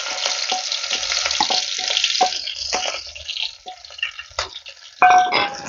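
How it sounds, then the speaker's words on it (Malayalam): Onion, green chilli, ginger, garlic, curry leaves and small shallots sautéing in a pan, a light sizzle broken by sharp scraping and clinking strokes of a spoon stirring at an uneven pace. "നമുക്കൊന്ന് നന്നായിട്ട് വഴറ്റിയെടുക്കാം."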